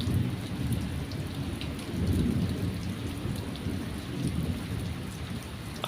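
Steady, dense rainfall pours down while low thunder rumbles in the distance throughout a storm. The sound stays loud and continuous with no voices.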